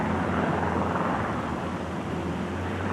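Helicopter flying nearby with a steady loud rotor and engine drone, a low throbbing hum under a broad whooshing roar, alone without speech.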